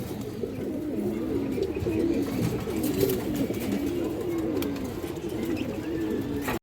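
Gorra pigeons coo close by in a continuous, overlapping run of low, rolling calls, steady throughout and with no voices.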